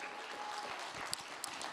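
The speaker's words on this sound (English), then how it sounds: "Give her a big round of applause." A church audience claps in a brief burst of applause, a dense even patter of many hands filling the room at moderate distance, with no voices over it.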